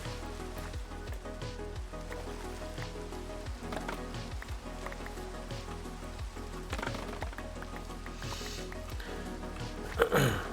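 Rain falls steadily in the video game Minecraft, a soft continuous patter and hiss with low muffled thumps recurring throughout and a brief louder clatter near the end.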